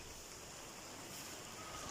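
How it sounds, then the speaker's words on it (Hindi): Heavy rain falls steadily outdoors as a continuous, dense hiss, fairly faint and even throughout, with no voices. "इतनी तेज़ बारिश हो रही है बाहर"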